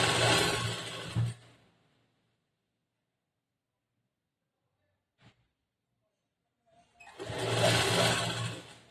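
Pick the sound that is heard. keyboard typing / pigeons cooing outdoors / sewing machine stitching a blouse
sewing machine stitching a blouse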